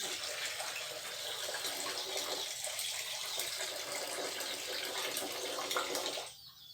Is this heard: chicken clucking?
no